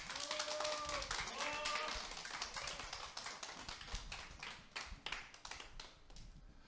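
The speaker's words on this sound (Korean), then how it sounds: "변인성 단장님 모실 때 큰 박수로 맞이해 주세요." Audience clapping to welcome a speaker at an indoor lecture event, a burst of many hands that thins into scattered claps and fades, fairly quiet with no talk.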